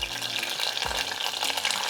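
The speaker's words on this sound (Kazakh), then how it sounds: "Енді картошкадан қалған қызып тұрған майға тәтті бұрышты салып" Sweet pepper pieces fry in hot oil left over from cooking potatoes, giving a close, continuous sizzle and crackle with no talking.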